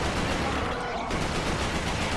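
Dense, continuous gunfire in the shooter game Resistance: Fall of Man, loud and sustained with rapid overlapping shots filling the whole stretch.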